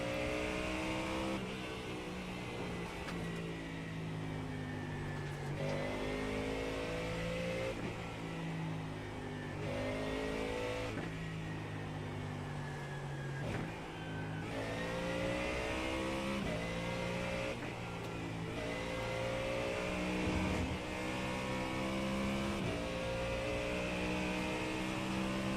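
A Ford Mustang race car in a racing video game, set at Suzuka, drones steadily through the whole stretch, its engine note climbing and falling through repeated gear changes, loud and close with no talking over it.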